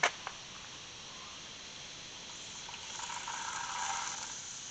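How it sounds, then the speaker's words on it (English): Water runs from a tap into a bucket meant for a simple bee feeder, a faint steady gush that grows a little fuller over a few seconds after a couple of clicks. "We're going to put some water in this"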